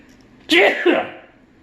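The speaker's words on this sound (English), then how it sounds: "Oh, I'm going to sneeze." A single sharp, loud sneeze bursts out suddenly and trails off quickly, close to the listener.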